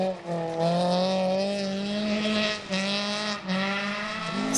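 A Ford Fiesta Class N3 rally car accelerates along a BTRDA championship stage at the 2013 Malcolm Wilson Rally. The engine note climbs through the gears, with brief dips at the shifts, loud and close, and no voices.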